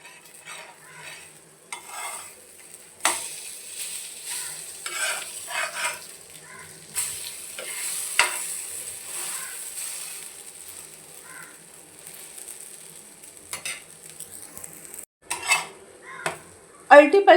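Bread pieces are turned over and roasted in a pan on medium gas, with repeated clinks and scrapes of a utensil on the pan over a faint frying hiss, close by.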